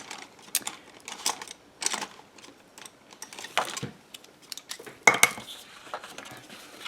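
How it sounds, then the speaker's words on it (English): Scissors snip off a small piece of card in a series of sharp, close cuts, with a few louder clicks of the blades among the quieter snips and no talking. "you can just use your scissors and then snip off this little bit"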